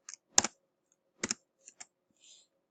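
Short bursts of computer keyboard typing while a question is entered into a form, a few quick clustered key clicks separated by pauses, close and quiet with no talking.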